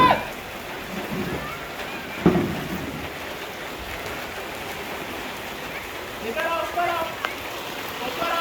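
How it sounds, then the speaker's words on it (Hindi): Heavy rain falls in big, fat drops, a steady dense hiss of rainfall on surfaces with occasional louder splashes, while voices talk over it outdoors. "मोटी मोटी बूंदे बहुत।"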